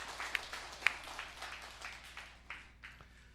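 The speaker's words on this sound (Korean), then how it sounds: "박수 한번 드리겠습니다." Applause during a Sunday worship service in a Korean church: a faint, brief patter of clapping with a few sharper claps near the start, fading out over a few seconds.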